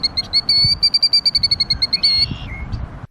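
Birds at Reed Bingham State Park, Georgia, sing a quick run of bright, repeated high chirps, then a short trilled phrase. The calls sound clear and fairly close over quiet outdoor background noise, with no talking.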